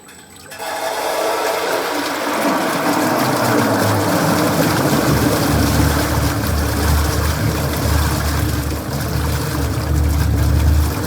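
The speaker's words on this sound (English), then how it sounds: "the first one is about the water mix" A 300L toothpaste making machine runs its water mixing stage, producing a loud, steady churning rush of water over a deep motor rumble that builds in the first second and continues without pause.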